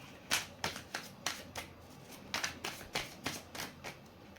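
Tarot cards shuffled by hand in quick, evenly spaced riffling bursts, about a dozen soft flicks, close and quiet, with no talking.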